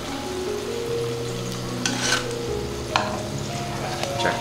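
Fish and mashed-potato-stuffed dumplings sizzle and spit steadily in a hot pan, with a few sharper pops and stirring scrapes over a continuous frying hiss.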